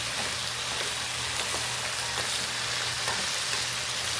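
Mushrooms frying in a pan alongside cooked eggplant, giving a steady, close sizzle with faint crackles and a low hum beneath, with no talking.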